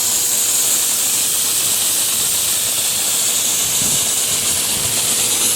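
Compressed air pushed through an inground sprinkler system's heads during a winter blowout makes a steady, loud, broad hiss that holds constant throughout, with no break or voices.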